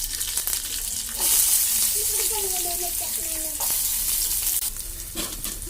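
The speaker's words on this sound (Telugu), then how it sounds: "ఇప్పుడు ఆయిల్ కాగింది కదా ఇందులో కరివేపాకు పచ్చిమిర్చి" Curry leaves and green chillies hit hot oil in a pan and sizzle loudly and steadily, with a crackling fry that carries on under someone talking.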